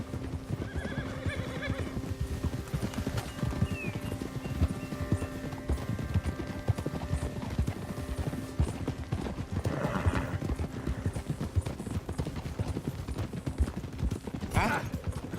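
Horse hooves clip-clopping steadily in Red Dead Redemption 2 while riding, continuous and close, with a horse whinny, faint distant gunfire and brief character voices over ambient game sound.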